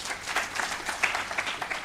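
Applause from the audience at a climate finance symposium for youth and women at a university, a steady, moderately close patter of many hands clapping with slight swells throughout.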